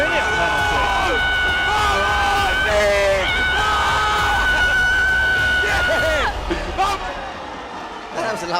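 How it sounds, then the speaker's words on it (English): Loud, piercing screams ring out over a noisy crowd at a Kings World Cup football match, sustained shrill cries lasting several seconds before fading into general hubbub. "That was a loud, piercing scream in the ear, wasn't it?"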